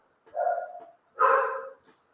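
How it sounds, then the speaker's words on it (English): Two close, clear dog barks, each a drawn-out woof with a short pause between them, heard alone in a quiet room. "My dogs have started barking."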